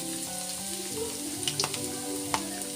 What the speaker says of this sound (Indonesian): Jika minyaknya sudah panas, bisa dimasukkan untuk bawang putih yang telah dicincang tadi.